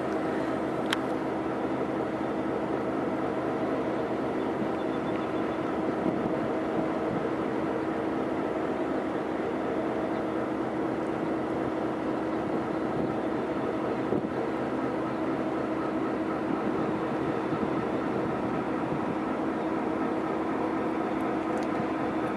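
Norfolk Southern high hood locomotive idling and rumbling in a rail yard with a caboose, a steady low engine drone that holds evenly throughout at moderate distance, with no talk.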